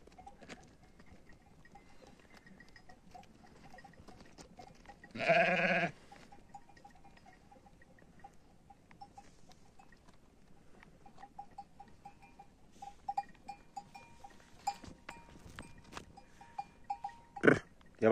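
A single loud, close bleat comes from a billy goat or another farm animal in the wintry mountains, followed by faint scattered clinks and rustling.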